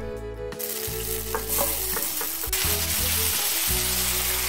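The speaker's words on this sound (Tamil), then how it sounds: "எண்ணெய் காய்ந்ததும் நம்ம எடுத்து வச்சிருக்கிற சிக்கன் பீஸை அதில் போட்டு" Chicken pieces drop into hot oil in a kadai, giving a loud, steady sizzle with crackling and a few clunks of handling, no voices.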